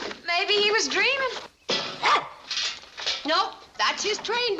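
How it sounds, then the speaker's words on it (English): A dog barks in a TV sitcom scene, short barks and yips mixed with people talking over them in close indoor dialogue. "Nope, that's his train bark."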